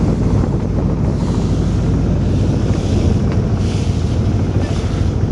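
Strong wind roars across the microphone during a boat ride on the Meghna River, with water rushing and a low engine rumble throughout.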